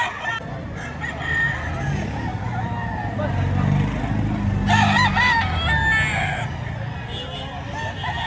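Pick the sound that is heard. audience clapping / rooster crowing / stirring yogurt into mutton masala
rooster crowing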